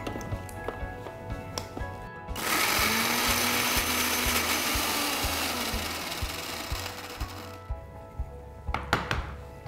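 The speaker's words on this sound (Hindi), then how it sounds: "सारा मसाला अब हम पीस लेंगे।" An electric mixer grinder whirs loudly, grinding cold masala for Mangalorean-style chicken ghee roast, running steadily for about five seconds between clunks and rattles of handling the jar.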